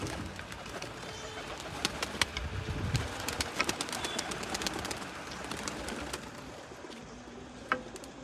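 Outdoor ambience with soft pigeon coos and scattered bird calls, plus a few sharp nearby clicks and knocks.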